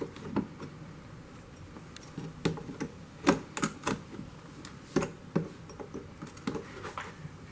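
Scraping out old putty or lead during an in-situ stained glass window repair, a run of small sharp scratches and ticks at an uneven pace, close and fairly quiet.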